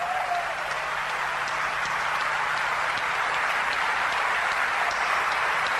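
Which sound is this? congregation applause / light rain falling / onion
congregation applause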